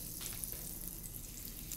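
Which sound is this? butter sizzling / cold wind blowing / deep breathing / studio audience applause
butter sizzling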